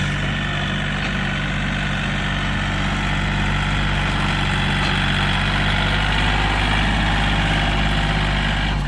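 A 2019 Yanmar EF393T tractor engine runs at a steady idle, close and loud. The continuous diesel rumble and drone hold without a break, and no voices are heard.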